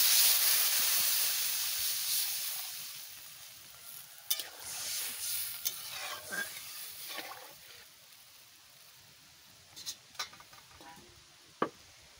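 Water poured into a hot pan of karela and fish curry hisses and sizzles loudly, then eases into a softer steady bubbling broken by a few sharp ticks and taps of utensils.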